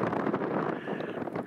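Wind gusting across a hilltop near the Cheviot, a steady rough buffeting rumble against the microphone, close and continuous.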